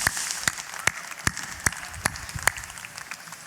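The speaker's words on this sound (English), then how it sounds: "Let's give them a round of applause." An audience at a beer keg championship awards presentation gives sparse applause: a handful of evenly spaced handclaps, fairly faint, with no talking over them.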